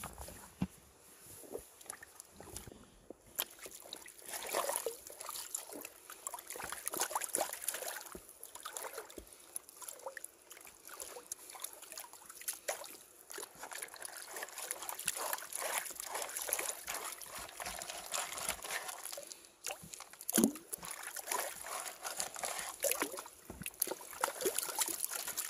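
Water sloshes and trickles in irregular swirls as soil is panned for gold in a pan, a soft close-up washing sound with intermittent splashes and no talking.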